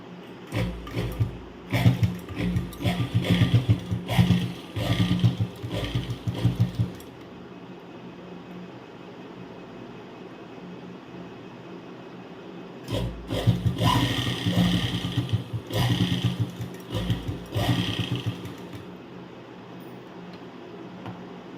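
A sewing machine stitches along the edge of an opened zip in two bursts of rhythmic mechanical whirring and needle clatter, separated by a long quiet stretch, up close and without speech.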